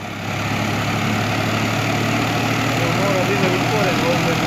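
A tractor engine idles steadily in a foggy forest, a low continuous hum close by with a faint whine over it, while people talk quietly beneath.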